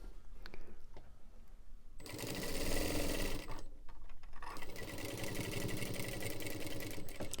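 Sewing machine stitching a back seat car organizer, running in close, steady bursts with a brief pause between them.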